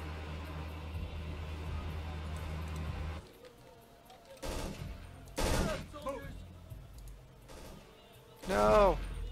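Sniper and rifle gunfire in the video game Emergency 4 US Army Mod, several sharp bursts and single loud cracks spread out after a rumbling passage, with a voice talking in between.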